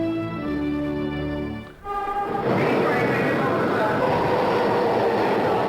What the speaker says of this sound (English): The train was coming in like that.